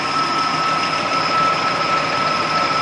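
A Nissan VG33E V6 engine idles steadily while warming up after an additive treatment for knocking, a continuous even drone with a thin high whine on top and no talking.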